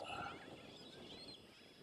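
A seabird colony on a Great Barrier Reef island near Cairns, with a steady din of overlapping bird calls and cackling that carries on without a break over a couple of seconds.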